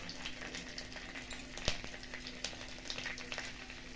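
Bay leaves, cumin, cardamom, cinnamon, whole garam masala and asafoetida sizzle in hot oil, a faint steady crackle with scattered small pops and a couple of light utensil taps.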